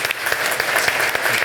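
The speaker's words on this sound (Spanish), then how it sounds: "Más fuerte el aplauso, por favor, para agradecer a nuestros panelistas" A conference audience applauds the panelists at a health panel event, dense continuous clapping from many hands, loud and close throughout the short burst.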